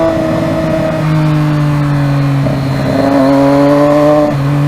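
Triumph Daytona 675 motorcycle with an aftermarket exhaust, a loud, close engine note holding steady tones, then rising and dropping through a few revs.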